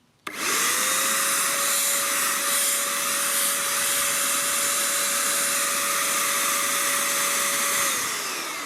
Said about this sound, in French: Donc le pistolet de peinture, le Tecpo, lui on est sur du 500 watts.